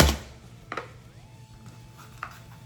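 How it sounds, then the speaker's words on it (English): A knife chops unsalted peanuts on a board: a few sharp, close taps spaced irregularly over quiet kitchen background. "I'm just going to chop up a few peanuts"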